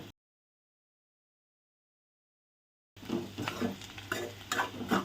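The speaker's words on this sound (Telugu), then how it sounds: "బాగా ఫ్రై చేసాం." Food frying in a pan for a Telugu breakfast recipe, with a stretch of silence followed by steady sizzling and stirring scrapes, close and moderately loud.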